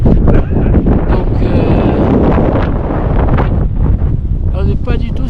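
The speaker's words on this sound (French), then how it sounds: "il y a beaucoup plus de vent" Strong mountain wind during the Cho Oyu climb to camp 2, loud and constant, roaring and buffeting the microphone throughout with gusting rushes and snow-surface rustle.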